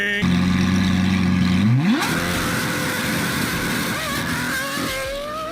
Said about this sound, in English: This is the race exhaust